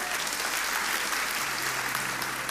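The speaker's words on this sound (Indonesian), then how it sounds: "Kasih tepuk tangan untuk Tuhan." Dense, steady applause from a worship congregation at an Indonesian Christian sermon fills a short stretch, loud and continuous with no pauses.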